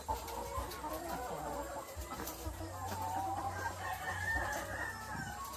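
Layer hens cluck and chatter continuously inside a poultry layer building, a dense crowd of overlapping calls at moderate distance over a low machinery hum.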